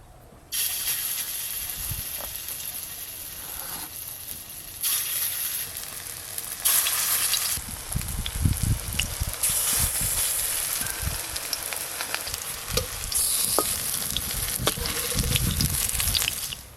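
Spinach fritters frying in a pan of oil, with close bubbling sizzle that rises in loud bursts and then settles, broken by occasional clicks and scrapes.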